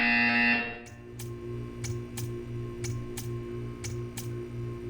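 In the video game Portal 2, a harsh sustained buzz cuts off and gives way to a steady electronic drone with regular ticking pulses, about eight clicks evenly spaced over the test chamber hum.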